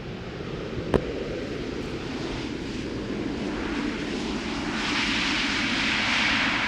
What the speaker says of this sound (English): EasyJet A320neo arriving from Edinburgh.